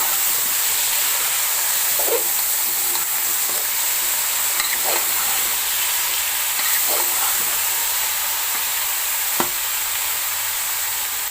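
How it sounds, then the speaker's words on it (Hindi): Potato and cauliflower for aloo gobi sizzling as they roast in a pan over low heat, a constant close hiss of frying with a few soft stirring clicks and scrapes, no voices. "अब इसकी मैं हल्की आंच करके इसको मैं भून लूंगी।"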